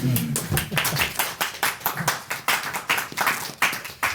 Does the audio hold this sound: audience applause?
yes